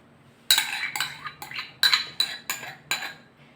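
Spoon scraping and clinking in a bowl while washed rice is mixed with whisked yogurt, a few irregular close knocks and scrapes with quiet pauses between, no talking.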